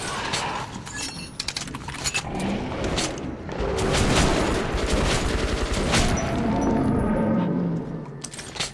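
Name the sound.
enemy gunfire in video game Metro Last Light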